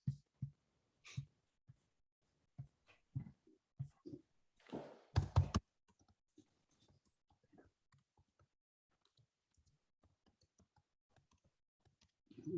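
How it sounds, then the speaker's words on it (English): Keys tapped on a computer keyboard while an email address is entered, a sparse run of quiet, close clicks and taps at uneven intervals, with a soft breath or sigh partway through and long near-silent gaps. "I'll type in my email just now."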